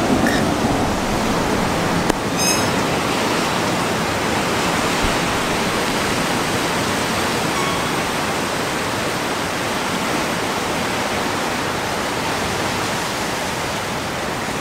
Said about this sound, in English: I didn't expect the waves to be this rough